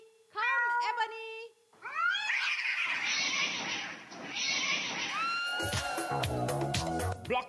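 Black cats meow and yowl loudly in a series of drawn-out, overlapping cries, one call after another, ending in a harsher, noisier wail.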